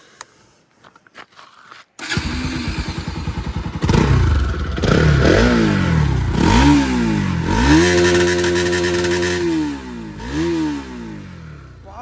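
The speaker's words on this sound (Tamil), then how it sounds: "NS200 ஸ்டாக் எக்ஸாக்ஸோட சவுண்ட் எப்படி இருக்குன்னு சொல்லிட்டு நம்ம செக் பண்ணி பார்த்துடலாம்" A five-year-old Bajaj Pulsar NS200 motorcycle on its stock exhaust starts up after faint clicks, then revs loudly and repeatedly, the engine note rising and falling in sweeping blips close by, with some mechanical clatter.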